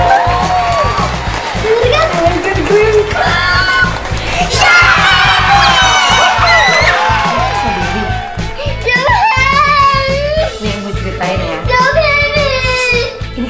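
Young children shout and cheer together loudly at a birthday unboxing of LOL Pearl Surprise and Confetti Pop toys, a burst of excited high voices with whoops that carries on for several seconds amid general chatter.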